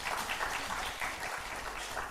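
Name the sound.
congregation applauding in church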